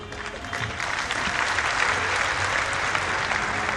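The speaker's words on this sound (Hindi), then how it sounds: "ताली बजा लीजिए, अच्छी बात है," A Bhagavat katha audience bursts into dense, sustained applause, many hands clapping together in a continuous loud wash that swells slightly and holds steady.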